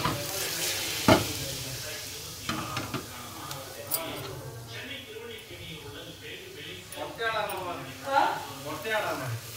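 Dosa batter cooking on a hot pan as water is sprinkled over it, soft sizzling and crackling with a sharp hiss burst near the start, a person talking over the frying.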